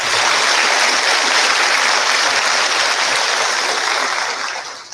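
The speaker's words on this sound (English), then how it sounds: "Let's give them a round of applause." Audience applause for graduating students at a class of 2021 cord ceremony, a loud, even wash of clapping that holds steady and fades away in the final second.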